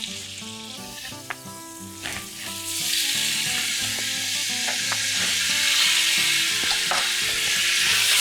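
Shallots and bacon frying in rendered oil in a pan for French-style pot-roasted beef, the sizzle swelling after a few seconds and holding steady beneath light background music.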